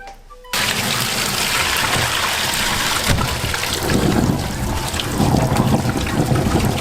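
Tap water gushes loudly into a colander of Spanish mackerel fish scraps being rinsed, a steady close rushing and splashing that starts abruptly and continues without talk.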